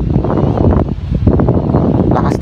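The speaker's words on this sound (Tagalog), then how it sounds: "lakas talaga ng hangin ngayon dahil may bagyo" Strong storm wind buffets the microphone outdoors in a steady roaring, gusty rush with low rumble, loud and close throughout.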